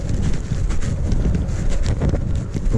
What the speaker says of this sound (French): Comme vous pouvez le voir, il y a un peu de vent.